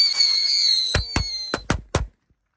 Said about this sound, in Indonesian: yang pertama kita nyalakan adalah mercon tikusan